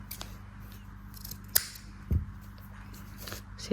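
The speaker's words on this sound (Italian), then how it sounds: "E ora tiro il filo circa 10-15 cm e lo taglio." Scissors cutting crochet yarn at close range, giving a single sharp snip, with a few soft handling rustles around it in a quiet room.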